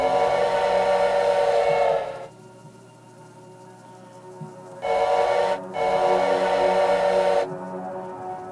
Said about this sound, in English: I'm gonna toot my whistle again.